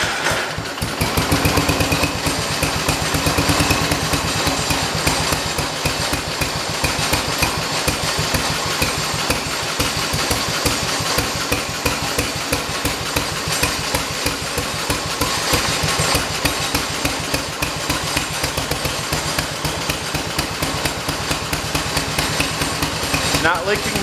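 A 1968 engine running after being started, a steady rough idle with rapid rhythmic chugging held at a constant level for the whole stretch, close to the microphone.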